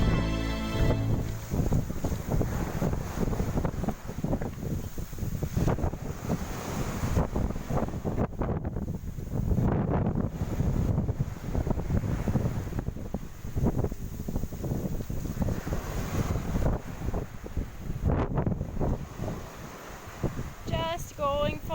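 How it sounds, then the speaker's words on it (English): Strong wind on a beach buffets the microphone continuously, roaring and gusting, with the wash of surf faintly underneath. "Just going for a walk on the beach on a windy day."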